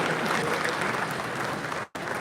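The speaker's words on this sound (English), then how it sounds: "Please welcome them with a big round of applause" A crowd claps steadily and fairly loudly at an auto expo launch event, with one brief dropout near the end.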